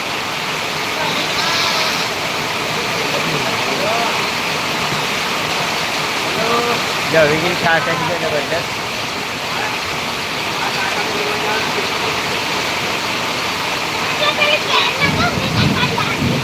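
Heavy monsoon rain pours in Dindoli, Surat, making a loud, unbroken roar, while people talk over it throughout.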